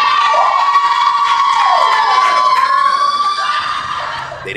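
A comedy show audience screams and cheers loudly and continuously, a dense wall of crowd noise that slowly fades toward the end.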